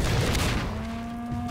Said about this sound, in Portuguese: Preparar pro tiro em 3,